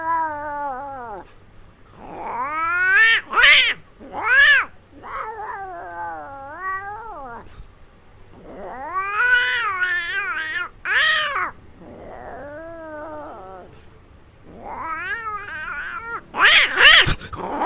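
A voice imitates two cats fighting, with yowling caterwauls, rising and falling meows and sharp spitting bursts in irregular phrases, loud and close against a quiet background.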